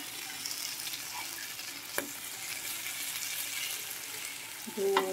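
Brinjal slices fry in oil on a flat tawa, giving a steady, close sizzling hiss throughout with one sharp clink partway through and a short scrape of stirring at the end.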